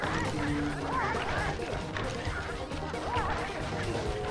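Chickens squawking and clucking in the video game Sly Raccoon, several birds calling repeatedly in a busy, loud mix over game noise and music.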